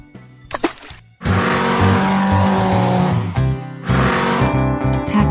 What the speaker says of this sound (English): Racing car.